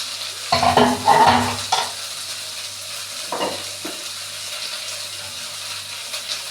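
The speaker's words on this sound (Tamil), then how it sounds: "பொடி பொடியாக வெட்டி வச்சுருக்க மூணு தக்காளியை இதில் சேர்த்துடலாம்" Three finely chopped tomatoes drop into a frying pan while cooking kurma, setting off a loud burst of sizzling and stirring that settles into a softer, steady fry.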